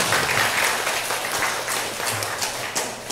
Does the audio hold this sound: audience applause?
yes